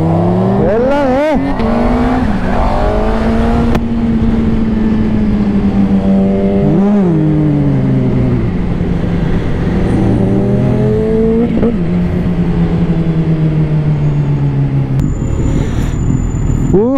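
A Kawasaki H2R Carbon Edition motorcycle engine revving hard nearby, loud continuous high-pitched engine whine rising and falling through repeated throttle blips and gear changes.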